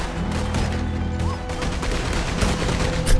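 A dense burst of gunfire in Red Dead Redemption 2, with rapid overlapping shots and impacts over about three seconds, ending in a sharp loud crack.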